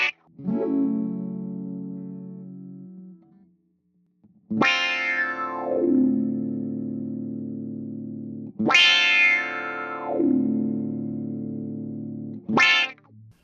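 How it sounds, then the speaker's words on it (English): Electric guitar played through the Filtron envelope filter effect of a Fender Tone Master Pro with no other effects, four picked notes or chords each sweeping down in a vowel-like quack and sustaining before fading, close and clear with no talking. "Let's listen to the Filtron with no other effects."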